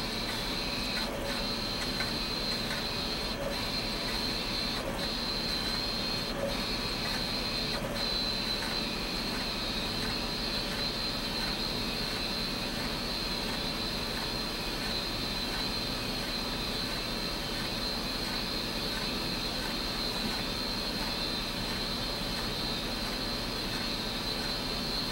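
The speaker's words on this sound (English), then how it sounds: "It automatically rewinds the tape itself." An automatic tape drive rewinds and ejects a tape with a steady, even mechanical whir and faint periodic ticks early on, droning on without pause and without any voices.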